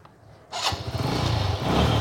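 A second-hand motorcycle starts up after a moment of quiet and settles into a steady, close idle with a low, even engine thrum.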